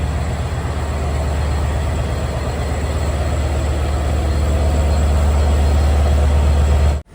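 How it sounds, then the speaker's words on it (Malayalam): A diesel local train pulls into platform 4 at a Sri Lankan coastal-line station, its engine a steady, loud low rumble with broadband rolling noise held throughout before cutting off at the end. "ഇവിടെ 4-ാം നമ്പർ പ്ലാറ്റ്ഫോമിലേക്ക് ഒരു ലോക്കൽ ട്രെയിൻ വരികയാണ്."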